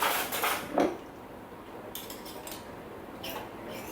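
Teaspoon scraping and clinking against a bowl while scooping fruit mince for lined pastry cases, a few light metallic taps and scrapes up close with quieter pauses between.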